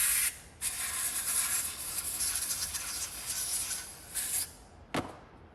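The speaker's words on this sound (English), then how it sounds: "I'm gonna spray some cleaner on this" A long continuous hiss from an aerosol can of electrical cleaner spraying up close into a vintage drill's switch, then a brief pause, a short burst, and a final quick spritz.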